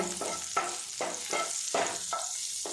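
A spoonful of butter sizzles in white oil in a pan over low heat, a steady hiss broken by regular stirring scrapes about every half second, close and continuous.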